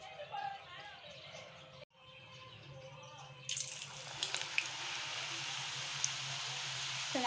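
French fries frying a second time in hot oil: quiet clinks and faint background sounds at first, then a steady hiss with crackling, popping bubbles that carries on loudly to the end.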